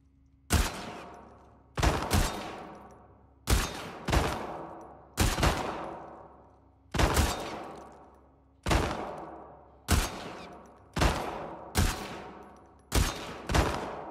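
Single gunshots ring out at a shooting range in The Last of Us Part II, each a sharp crack with a decaying echo, fired at a steady, unhurried pace about once per second, loud and close with no voices.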